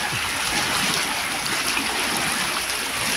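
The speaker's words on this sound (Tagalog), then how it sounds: "Ayun, tingnan nyo, ang lakas ng flow ng water." Strong current of typhoon floodwater in a flooded barangay in Kawit, Cavite, rushing as a steady, loud broadband wash with no breaks, close by and unaccompanied by voices.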